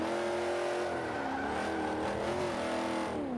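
A 2002 Camaro SS muscle car racing in C Class in Forza 5, its engine holding a loud steady rising-and-falling roar as it accelerates and shifts, with no talking.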